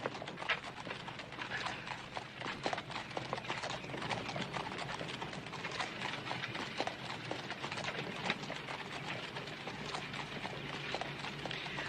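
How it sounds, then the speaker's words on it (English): Horse hooves clop in a steady, brisk trotting rhythm in a western TV series, moderately close, with rattling and creaking underneath and no speech. "get your horse to manage a livelier gait"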